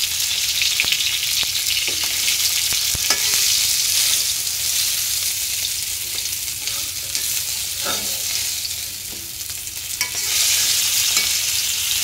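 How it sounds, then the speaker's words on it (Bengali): Fish frying in a pan, a continuous bright sizzle with occasional crackles and soft stirring scrapes, close and steady with no voices. "মাছ ভাজা হয়েছে, হালকা ভেজে নিলাম"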